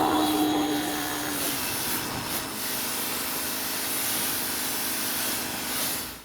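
An AIVOLT PWX-3200S electric pressure washer runs with a steady, close whirring drone, a brief higher whine early on, then a constant motor hum until it cuts off abruptly at the end, with no talk.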